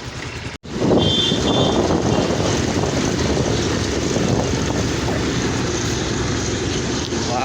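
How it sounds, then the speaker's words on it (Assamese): Wind rushing past a rider on a moving motorbike: a loud, steady broadband roar that starts after a brief cut near the beginning and continues unbroken, with no voices. "এয়া বাবুদাৰ বাইক আমি বাইকত আহিলোঁ ভালেই হ'ল অকণ বতাহ চতাহো খালোঁ"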